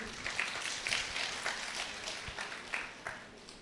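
A church congregation applauds in thanks, a fairly soft, steady patter of many hands clapping with rhythmic swells throughout.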